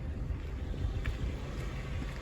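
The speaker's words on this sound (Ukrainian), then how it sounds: "Двигунчик муркоче." A car engine idles with a steady, low rumble that holds an even level throughout, with a faint airy hiss on top.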